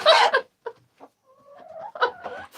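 Backyard hens in a suburban coop cluck in short, close bursts separated by pauses, with a drawn-out squawking call in the middle and more clucking at the end.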